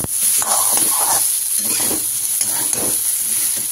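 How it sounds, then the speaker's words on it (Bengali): Radish pieces tossed with cumin and coriander spices in a hot pan give a close, continuous sizzle with repeated stirring scrapes and swishes, with no talking. "দিয়ে একটু ভালো করে নাড়াচাড়া মিশিয়ে দেবো আর কি, নাড়াচাড়া দিয়ে সবজির সঙ্গে মশলাটাকে"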